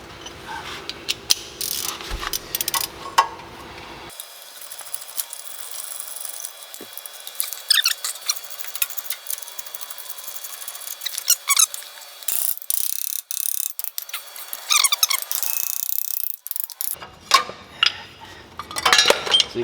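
A 3/8-inch ratchet loosening Allen head brake caliper bolts on a Chevy C10 front end, heard as bursts of rapid, close metallic pawl clicking with pauses and clanks of tools between, no talking.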